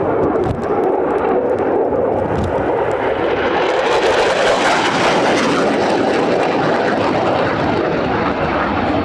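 An RAF Eurofighter Typhoon FGR.4 at full reheat during a RIAT display, a loud, continuous crackling jet roar that swells and stays dense and powerful throughout, with no talk.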